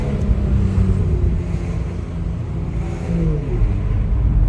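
A BMW M2 engine and exhaust rumbles steadily at low speed in town, a deep continuous drone with slight swells that echo off nearby walls; no distinct backfire pops stand out.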